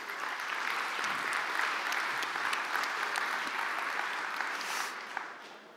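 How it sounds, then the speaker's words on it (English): Conference audience applauding steadily and densely throughout at a developer event, a continuous wash of many clapping hands that tapers slightly at the end. "can we all just have a big round of applause for Doug Lauder of Expo?"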